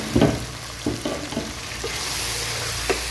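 Potatoes and cauliflower for aloo gobi mixed vegetables sizzle in a hot pan, with a few scraping stirs at the start and then a steady, even frying hiss.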